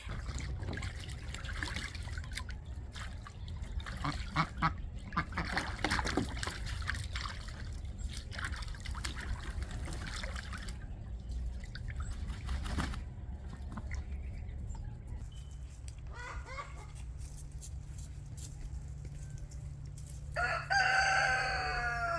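Ducks and chickens in a garden yard: a rooster crows near the end over trickling water and low background rumble, other birds faint throughout.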